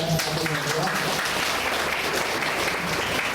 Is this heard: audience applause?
yes